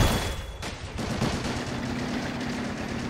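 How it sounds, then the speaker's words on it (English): Sustained machine gun fire from entrenched positions in the Men of War: Assault Squad battle for a 1944 Pacific airfield on Saipan, dense rapid bursts with heavy low-end thumps running continuously throughout, loud and close with no talk. "we're still fighting it out with machine gun positions."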